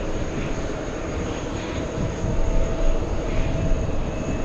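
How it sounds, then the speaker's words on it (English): An ITA Airways airliner passes near JFK Airport with a steady, broad roar that swells slightly toward the end, heard alone without any talking. "That's another Ita flight."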